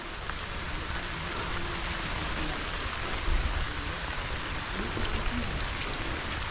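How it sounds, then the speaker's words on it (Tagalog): Steady rain pours down, a dense constant hiss spread evenly throughout, with scattered drops pattering on a surface nearby. "umuulan na naman"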